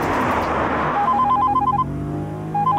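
A telephone rings with repeated electronic trilling tones, preceded by a short burst of noisy background.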